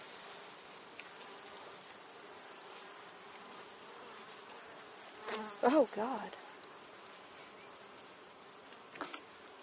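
Bees buzz in a dense, steady swarm from an opened beehive, a faint continuous hum with a few louder passes close by and a brief exclamation from a person.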